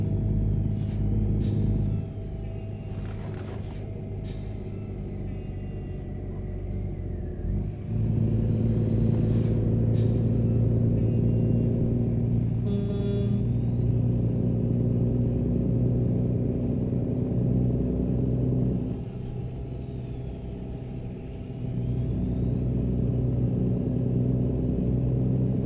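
Truck engine in American Truck Simulator, a Volvo VNL, droning steadily with a clear dip and change in pitch as gears are shifted, plus whining tones rising and falling, loud and alone without talk.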